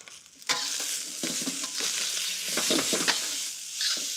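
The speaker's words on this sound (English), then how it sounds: "Pressing the rice down against the pan so that the grains can sear is a nice idea." Rice pressed down against a hot pan sears with a loud, crackling sizzle, broken up by repeated scraping and pressing strokes over the steady frying hiss. Nobody talks.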